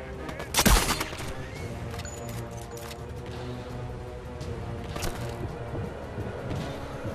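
Gunfire in the VR shooter Sniper Elite VR: a loud burst of shots near the start, followed by scattered fainter reports and a steady background bed of game ambience.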